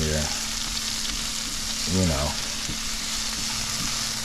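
Vegetables sizzle and fry in a pan with dry seasoning, salt fish and bitter melon (karela), a steady close hiss with a brief stir around the middle.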